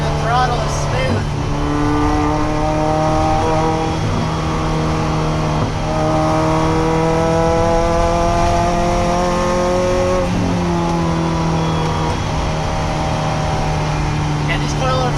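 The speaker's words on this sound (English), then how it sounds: "You can hear the throttle is smooth." Toyota MR2 engine pulling steadily under smooth throttle while driving on a road with new coilovers, rising harmonic engine drone with gear changes, continuous and close, with occasional voices over it.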